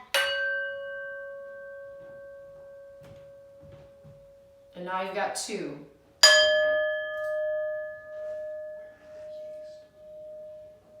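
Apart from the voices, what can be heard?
two singing bowls struck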